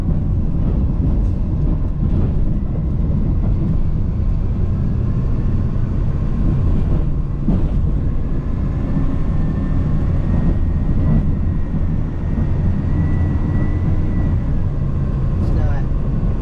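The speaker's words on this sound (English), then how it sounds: "I'm sure you can hear the plow rattling all around it" Snow plow on a truck rattling over an extremely rough road, a constant heavy rumble and clatter inside the cab with scattered knocks and creaks throughout.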